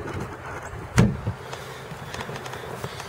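On a 2005 Ranger Z20 bass boat, a storage box lid pops open with one sharp thud near the start, followed by a smaller knock, close up amid light outdoor background noise.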